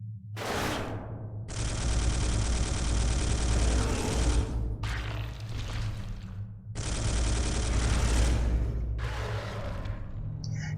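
Heavy bolter fire in the video game Space Hulk comes in long sustained bursts of rapid shots, loud and close, broken by short pauses and sharp single reports between volleys.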